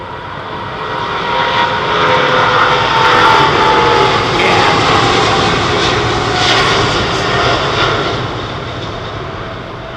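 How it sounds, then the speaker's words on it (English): An Emirates Airbus A380 at London Heathrow spools up its jet engines with a loud, continuous roar that swells and holds, a broad rushing drone rising and ebbing slightly throughout. "Fly Emirates A380."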